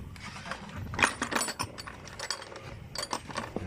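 A ratchet with a 12mm socket clicks during an oil change on a Honda CRF 150 motorcycle. It makes a few close, quick rattling bursts of clicks over a quiet background.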